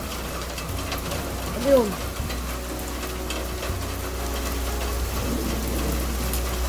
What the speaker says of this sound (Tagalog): Guys, umuulan ng yelo.